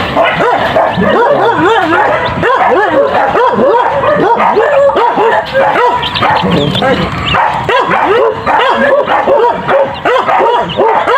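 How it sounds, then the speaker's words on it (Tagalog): Several dogs bark and yip loudly and continuously, an overlapping chorus of barks close by with a few whimpers mixed in, keeping up a constant din. "ang ingay ng mga aso"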